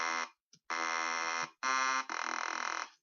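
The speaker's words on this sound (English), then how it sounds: "one of my favorite detuned leads" Detuned synth lead patch from a software synthesizer, bright buzzy sustained notes in four short bursts separated by brief gaps, the last with a slight pulsing texture.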